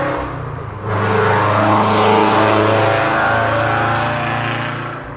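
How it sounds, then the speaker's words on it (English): A car drives past, its engine rising from a low hum into a loud, revving roar that swells and then slowly fades away, heard close with no talk. "cool car, bro. Cool car."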